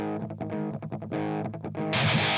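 Electric guitar riff boosted by a TSE 808 tone-boost plugin, loud and close, with a rhythmic series of picked chords and a brighter, distorted wash swelling in at the end.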